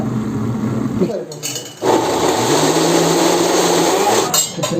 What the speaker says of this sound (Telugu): మిక్సీ ఆడించుకోవాలి